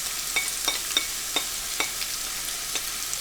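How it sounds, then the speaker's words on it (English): Carrots sizzle in a pan while being stir-fried for chow mein, a steady bright hiss with small crackles and soft scraping stirs throughout, close and without talk. "You can hear that sizzling away."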